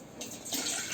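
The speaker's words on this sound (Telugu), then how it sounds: "నీళ్ళు పోసుకున్నాం." Water pours into a steel pot set on the stove, a brief close tap-like gush that swells partway through and runs on without talk.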